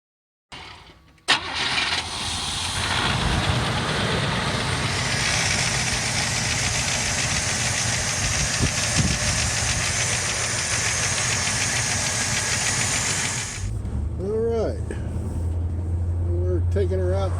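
A truck engine fitted with a rebuilt Rochester Quadrajet carburetor cranks briefly, catches and revs up, then settles into a loud, steady running drone that drops to a lower idle near the end.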